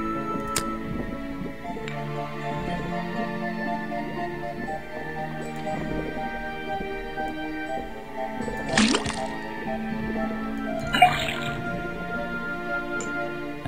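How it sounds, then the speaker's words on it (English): Liquid drips from a tapped faucet into a cauldron in the Detective Grimoire video game, sparse clicks and ticks over a quiet bed with a couple of brief brighter splashes near the end. "Then tap the faucet."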